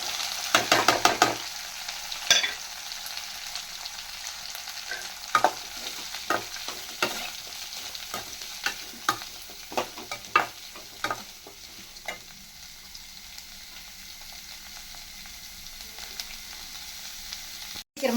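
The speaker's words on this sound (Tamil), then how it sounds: "அப்போ தான் சீக்கிரம் வெங்காயம் வதங்கும்" Onions sautéing in a frying pan for a home-style potato masala, a steady close sizzle broken by frequent sharp scrapes and taps of the spatula against the pan, slowly easing off toward the end.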